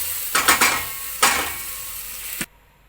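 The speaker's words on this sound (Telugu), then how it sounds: "ఇప్పుడు దీంట్లో మనం ముందుగా ఉడకబెట్టుకున్న ఆల్ వెజిటేబుల్స్ యాడ్ చేసేద్దాము" Boiled mixed vegetables tipped into a pan of fried tomato and onion for sambar, giving two bursts of clattering and sizzling with a stir between, then a sharp knock as the pan goes quiet.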